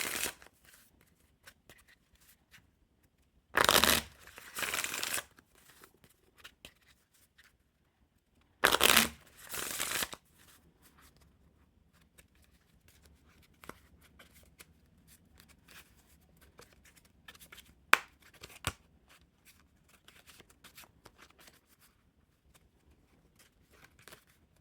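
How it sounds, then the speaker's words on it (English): Looney Tunes playing cards are riffle shuffled in two short, loud bursts of rapid fluttering clatter, followed by quieter card handling and occasional soft taps. "now for the part of the video where the cards will get all mixed up, the riffle shuffle."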